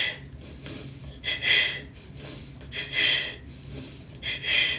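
Deep belly exhales in a breathwork session, each long breath out swelling then fading in a slow, steady rhythm, three breaths close and alone without talk.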